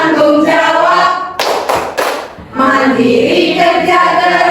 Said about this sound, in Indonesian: kita tepuk terlebih dahulu agar Bapak Ibu lebih semangat. Tepuk anti korupsi